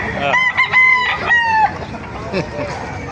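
A rooster crows loudly and close by at a chicken market in Baliuag, Bulacan, one long drawn-out call with a few broken notes, followed by faint background murmuring.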